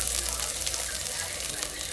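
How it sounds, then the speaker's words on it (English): Hissy, crackling sizzle of onions shallow frying in hot oil in a pan, steady and close throughout. "Now at this point, I was shallow frying my onions."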